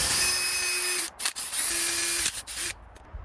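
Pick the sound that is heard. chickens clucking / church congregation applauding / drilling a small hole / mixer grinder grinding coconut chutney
drilling a small hole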